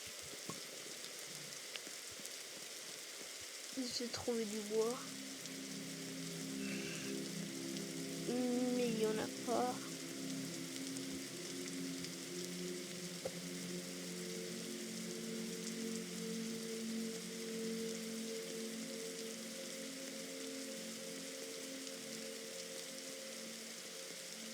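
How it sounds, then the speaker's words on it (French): Steady rain falling in a Roblox survival game set in a forest, a soft continuous hiss under someone talking quietly. "Et voilà, il va commencer à pleuvoir."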